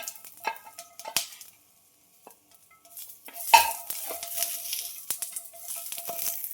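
Sizzling in a pan as garlic hits hot oil, with a few stirring clatters and utensil knocks, close by; no talking.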